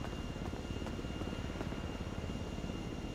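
Airplane engine in a video game, a steady loud drone with broadband rumble and a thin high tone, running continuously without a break and without talk.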